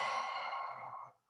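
A single long, breathy exhale is demonstrated during a guided breathing exercise, a soft airy sigh that holds for about a second, then fades out, with no talk over it.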